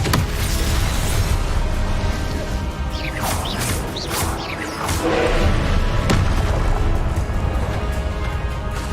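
In the video game Hogwarts Legacy, Confringo blasting spells set off crashing explosions amid dense combat, with loud booms, whooshes and impacts. A steady rumble sits underneath the repeated close blasts.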